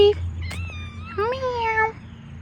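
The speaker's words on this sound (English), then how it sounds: "There's the neighborhood kitty cat." A neighborhood cat meows twice in drawn-out, rising calls close by, over a steady low hum, with a person speaking briefly around the cries.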